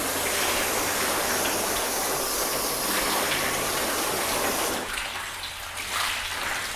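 A garden hose rinses a car, steady broadband spray of water running continuously and fairly close, easing off briefly toward the end before resuming.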